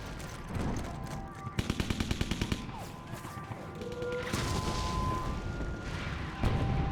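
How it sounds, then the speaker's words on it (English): Heavy shelling and gunfire in a WWII battle near the hill town of Bruyères, with a rapid machine-gun burst, scattered shots and rumbling explosions under a continuous roar of combat noise. "they come under heavy shelling"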